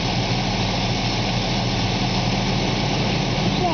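A car engine idles steadily after a Seafoam intake cleaning and hot soak, a constant low rumble with a broad hiss on top. No one speaks.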